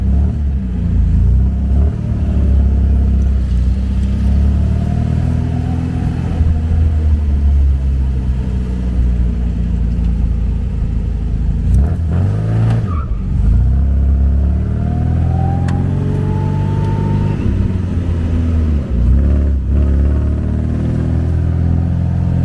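A car that is back on the road after thirty years drives down a bumpy back road, giving a loud, continuous cabin rumble with shifting engine tone and an occasional thump.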